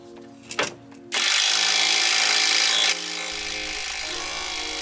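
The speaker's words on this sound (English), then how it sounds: "These bolts were also really rusted, so they also took a pretty long time to get out." A power tool works rusted bolts loose on the underside of a Toyota Celica ZZT231: a loud, steady whirring burst of about two seconds, then a quieter continuous run after a brief clank.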